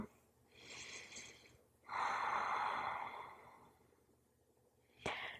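Slow, quiet breathing during a gentle prenatal floor stretch, with soft inhales and a long audible exhale, followed by a brief sharp breath at the end.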